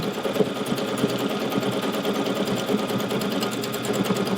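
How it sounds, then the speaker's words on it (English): A Solaris Vision sewing machine stitches a quilting design into fabric with a steady, rapid needle rhythm. The motor runs loud and close, unbroken from start to finish, with no voices. "it will stitch a quilting design for you"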